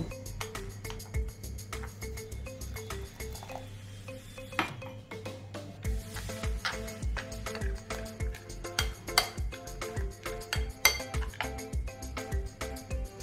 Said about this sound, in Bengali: এবার সব কিছুকে একবার খুব ভালো করে মিশিয়ে নেব। তারপর অল্প অল্প জল দিয়ে ব্যাটারটা তৈরি করে নেব।